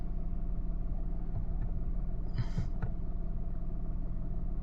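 A car used for Uber and Rapido rides in Jaipur idles with a steady, low engine hum, with a few brief clicks and rustles near the middle.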